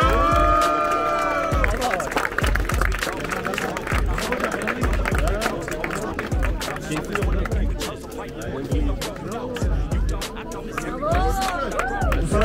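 A crowd at a Turkish mountain running race applauds the day's winner, producing dense, continuous clapping mixed with crowd chatter and footsteps, fairly loud and close, with voices talking underneath.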